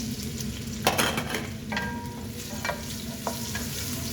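Garlic and onion frying in hot oil for a curry, a steady close sizzle with scraping and stirring clinks from a spoon against the pan.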